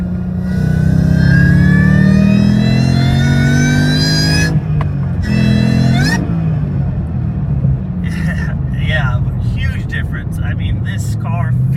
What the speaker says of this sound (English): I barely lay into it, and I'm getting whined already with the Stage 4.